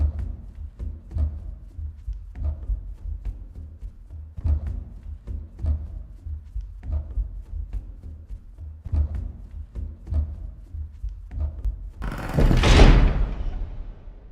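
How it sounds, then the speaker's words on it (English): A door closing with a loud, sudden thud and slam near the end, following a steady low rumbling background in a sitcom scene. "Why did the door close behind us?"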